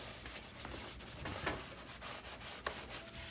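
An abrasive sponge scrubs a Ninja Foodi Smart XL grill in quick repeated rubbing strokes, a close, gritty scraping that is steady and fairly quiet.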